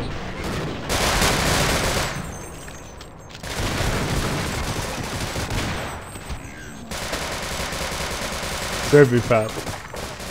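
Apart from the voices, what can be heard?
grenades exploding in video game Half-Life: Blue Shift (Sven Co-op)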